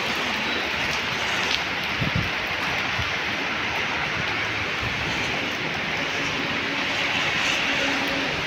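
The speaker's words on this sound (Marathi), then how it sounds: "पाऊस झिमाट चालू आहे, झिमाट." Light drizzle falls near the Pune–Solapur highway as a steady, soft hiss of rain, with traffic noise blending underneath throughout.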